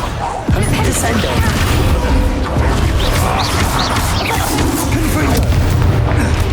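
Descendo spell in Hogwarts Legacy slams a target down with a heavy booming crash, followed by dense rumbling impact noise that stays loud and close throughout.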